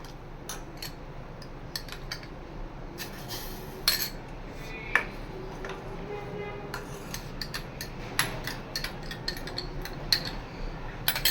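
Semolina added little by little into milk for dudh suji, stirred with a spoon that gives light, irregular clinks and scrapes against the pot over a quiet background.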